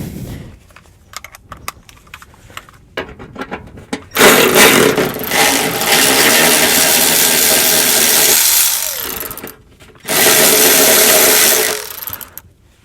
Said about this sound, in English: it might be too much rust for the electric ratchet